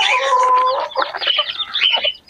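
Chickens cluck and squawk up close, with one sustained call followed by a run of choppy clucks, clear and fairly loud with no talking.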